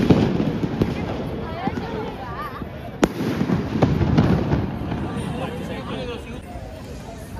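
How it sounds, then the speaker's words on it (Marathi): Diwali fireworks and firecrackers go off at Shivaji Park in Dadar, Mumbai, with a sharp close bang midway and scattered pops and crackles over a busy crowd murmur and voices. "तिथे आपले सेपरेट फटाके फोडू शकतात"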